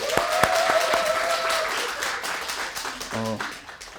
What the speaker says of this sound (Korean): QI팀에게 큰 박수 부탁드리겠습니다